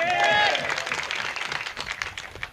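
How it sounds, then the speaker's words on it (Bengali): Audience applause breaking out at a live Bangladeshi talk event, a dense patter of many hands clapping close by right after a voice and continuing steadily, with crowd noise mixed in. "এটা এর লাগে একটা হাততালি দিত না?"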